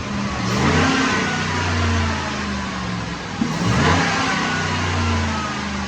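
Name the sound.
supercharged 2010 Ford Sport Trac Adrenalin engine on dyno pull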